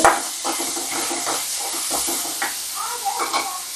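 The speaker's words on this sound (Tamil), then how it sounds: "வெங்காயம் நல்லா ஃப்ரை ஆயிடுச்சு" Onions sizzle and crackle in a hot pan while being cooked for adai, a steady frying hiss broken by scraping stirs and clinks of a utensil against the pan.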